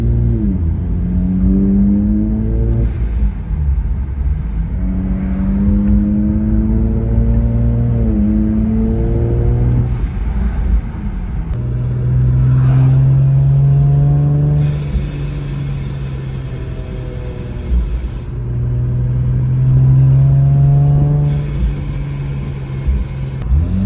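A supercharged Infiniti Q50 with a 3.7L engine making 625 HP accelerates hard on a road drive, its engine note climbing through repeated revving pulls and gear changes, loud and close throughout with a constant whirring drone.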